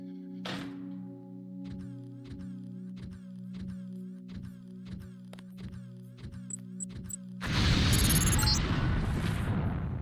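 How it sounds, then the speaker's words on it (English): A LAM grenade goes off in Deus Ex, a sudden loud blast with a long noisy rumble, after several seconds of steady rhythmic pulsing electronic game music. "Okay, so now that we planted our lamb, let's watch the fireworks."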